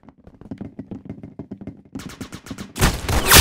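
Video game gunfire for a headshot kill: a rapid run of sharp shots that tightens into a dense burst and ends in a loud, roaring blast.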